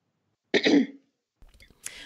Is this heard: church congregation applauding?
no